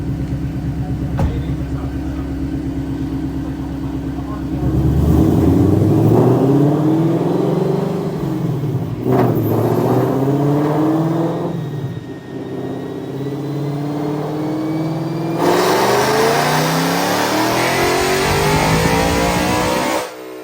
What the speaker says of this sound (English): They got some cars on the dyno right now